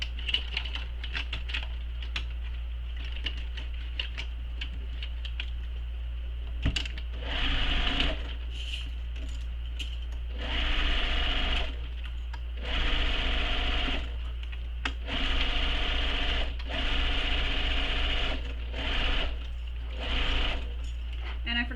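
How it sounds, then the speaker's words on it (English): A sewing machine stitches around a backpack seam in bursts of a few seconds each, with quiet pauses between the runs. It is close and fairly loud, over a steady low hum. "sew this all the way around using the seam allowance given in the pattern"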